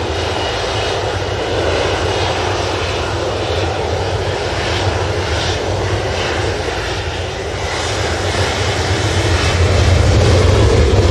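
An airliner departs an airport with a loud, steady jet engine roar close by that holds for a long stretch and swells slightly toward the end.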